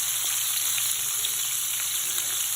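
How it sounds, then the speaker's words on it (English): Shrimp fry in olive oil in a pan over medium heat, a close, continuous dense sizzle with a steady hiss and no breaks. "add some olive oil to a pan and put it on medium heat. And then when you place them in, they're gonna cook like that"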